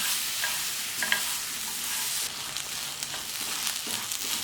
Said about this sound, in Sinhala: දැන් වම්බුඩු එකක් තෙල් එකේ බෙදගමු